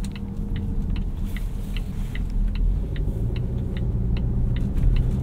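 A 2019 Volvo S90 T5 Momentum with its turbocharged engine pulling under acceleration, heard from inside as a steady low rumbling drone that slowly swells, with a regular faint ticking running alongside.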